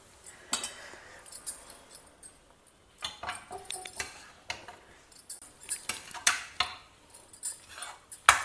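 A spoon clinks and scrapes against a kadai while tamarind rice is mixed with puli kachal, in irregular, fairly close metallic taps and knocks with short pauses between them.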